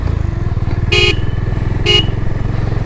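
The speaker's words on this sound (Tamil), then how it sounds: "இதில் டூவல் ஹார்ன் கொடுத்துருக்கானுங்க." Dual horn of a Honda H'ness CB350 motorcycle sounds twice, two short loud honks about a second apart over a steady, close idling engine rumble.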